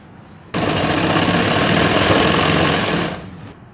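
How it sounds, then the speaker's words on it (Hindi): A sewing machine runs steadily for about two and a half seconds, stitching the border of a Ghoomar-style bridal lehenga; the loud, close whir starts abruptly, holds its pace, then winds down to quiet. "वापस इस वाली किनारी पे सिलाई लगानी है"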